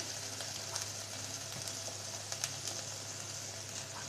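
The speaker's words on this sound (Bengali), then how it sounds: "ভালোভাবে মশলাটা কষিয়ে নেব" A masala of cumin, ginger and garlic paste fries in a pan with a soft, continuous sizzle, broken by a few faint scraping ticks as it is stirred. It sounds quiet and fairly close, with no talking.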